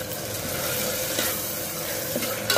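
Ginger, garlic, chili and coriander paste sautéed over low flame with onions, a steady close sizzle with soft stirring scrapes and a couple of light clicks near the end.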